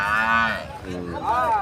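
Cattle at the Rajshahi city livestock market low loudly close by, with two long moos in a row over busy market noise.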